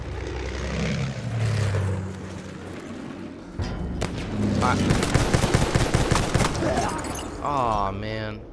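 In Battlefield 1, a propeller plane drones overhead while machine-gun fire rattles in dense bursts nearby, growing louder toward the end, with voices talking through the battle.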